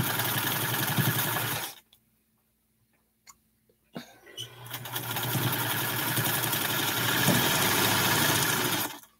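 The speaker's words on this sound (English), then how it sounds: "I could just sew this on down." A sewing machine piecing quilt blocks runs in a close, steady whir, stops for about two seconds of quiet with a few small clicks, then starts again and runs steadily to the end.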